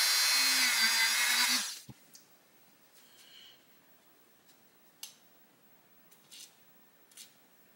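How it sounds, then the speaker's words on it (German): A 19 mm steel wire brush on a die grinder whirs loudly against rusty battery contacts of a remote-control car for under two seconds, then cuts off, leaving faint clicks and taps of handling. "Es handelt sich um eine normale Stahlbürste mit 19 mm Durchmessern und mit einer 3 mm Aufnahme für den Stabschleifer."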